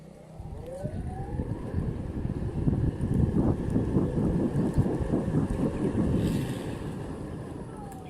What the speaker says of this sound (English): this is the acceleration and braking test on the cool wheel